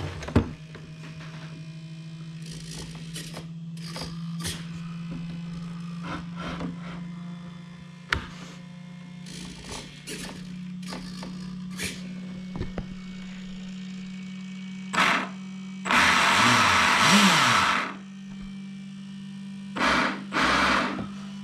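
A 3D-printed high-speed RC outboard boat motor fires up in short whirring bursts, with one louder sustained rev near the end, all over a steady electrical hum.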